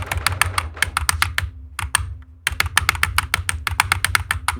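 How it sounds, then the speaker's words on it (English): Fingers rattle rapidly across a computer keyboard in dense bursts of close, crisp keystrokes, with a brief pause in the middle before the typing resumes. "I'm just typing up an essay real quick."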